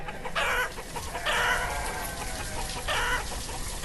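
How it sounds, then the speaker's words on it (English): Small chickens cluck in an Easter-themed village-building video game, three loud bursts of clucking at about half-second, one-and-a-half and three-second marks over a steady game ambience. "Do we get tiny little chickens? Yes, look. Tiny little chicken."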